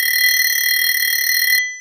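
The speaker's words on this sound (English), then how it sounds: "It's a classic 90s fake wood grain alarm clock." A classic 90s fake wood grain alarm clock effect from an SFX Pro 9000 unit rings out as a shrill, steady electronic buzz with several piercing tones, holding for about a second and a half before stopping abruptly.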